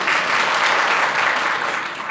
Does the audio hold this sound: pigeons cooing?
no